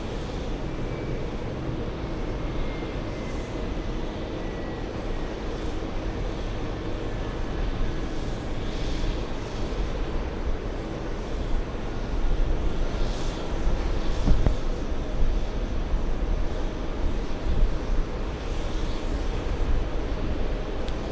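A big Boeing 777 freighter bound for Nova Scotia rumbles past an airport viewing lounge, a broad steady roar of jet engines that swells slightly toward the middle and holds at a constant distance throughout, with no talk.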